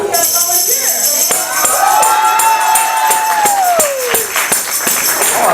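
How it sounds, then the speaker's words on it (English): A crowd at a high school poetry slam cheers, whoops and claps, with a rising and falling whistle and scattered shouts layered over a loud, continuous roar. "Oh, I love the applause."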